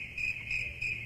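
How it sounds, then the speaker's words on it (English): Crickets chirp in shrill, evenly spaced pulses indoors, steady and moderately loud, with no voices. "I hear crickets."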